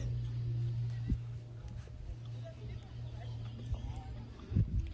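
A horse canters through a dressage test, its soft hoofbeats thudding in a loose rhythm beneath a voice talking over the arena.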